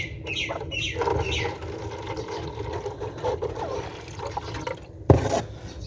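Water poured into a pets' water container, a few soft splashing trickles and drips against background outdoor noise, ending with a sharp clunk near the end.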